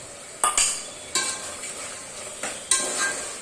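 A spoon stirs spices, including turmeric and ginger-garlic paste, through a mixture, giving several bright scraping sweeps in short bursts, close up, with a soft hiss between them and no speech.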